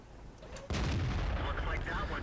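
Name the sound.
tank cannon firing in World of Tanks video game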